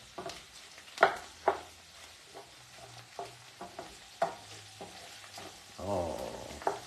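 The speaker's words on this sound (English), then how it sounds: "let's put the broccoli. All right. And we saute together." Broccoli rabe sautés in a pan on a gas stove with a soft steady sizzle, broken by close clanks and scrapes of stirring and one louder burst of frying near the end.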